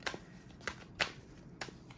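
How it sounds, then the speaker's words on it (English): Tarot cards being shuffled in four quick riffling bursts, crisp papery flutters spaced about half a second apart, close and fairly quiet with no talking. "Let me shuffle again."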